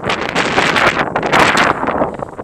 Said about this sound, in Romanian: Bate și vântul aici.